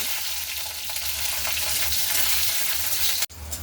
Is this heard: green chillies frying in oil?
yes